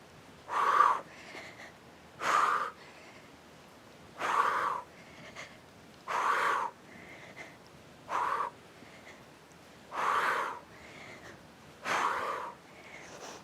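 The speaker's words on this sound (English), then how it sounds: "You hear my breathing?" Heavy rhythmic breathing during an exercise workout, eight hoarse, wheezy exhalations evenly spaced about every two seconds, close to the microphone with quiet gaps between.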